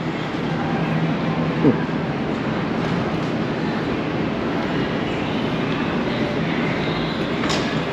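A train rumbling steadily at a station, a continuous low roar with a brief metallic clank and a faint squeal near the end.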